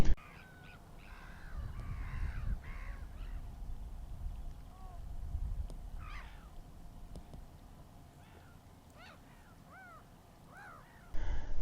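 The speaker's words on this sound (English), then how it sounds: "Some jackdaws, some crows." Jackdaws and crows call repeatedly across an open harbour landscape, with short harsh caws and higher chacking notes scattered at moderate distance over a low, steady background rumble.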